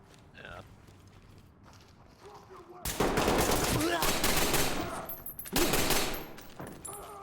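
Bursts of rapid gunfire in an online multiplayer shooter, a first volley followed by a second close, loud burst, with a voice talking briefly before the shooting.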